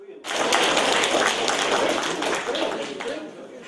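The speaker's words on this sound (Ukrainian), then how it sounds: "Після виступу Андрія Цици зал вибухнув шквалом аплодисментів." A hall full of people bursting into sustained applause after a speech, dense loud clapping that starts abruptly and rolls on steadily.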